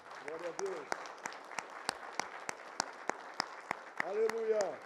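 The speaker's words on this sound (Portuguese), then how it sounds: "Você pode aplaudir ao Senhor por isso?" A church congregation claps in scattered, sharp bursts at moderate distance while a preacher's voice rises and falls over the applause.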